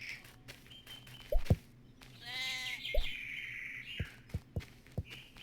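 Sheep in a video game bleat in a short wavering call, mixed with bird-like chirps and a few sharp footstep taps, all fairly quiet with game ambience underneath.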